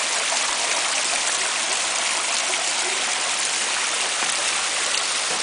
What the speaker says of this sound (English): And the water's coming out.